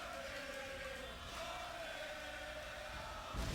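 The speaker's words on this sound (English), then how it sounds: "Listen to the crowd." A wrestling crowd at an independent IWS match roars and cheers in a sustained, even wash of noise, with a brief louder swell at the very end.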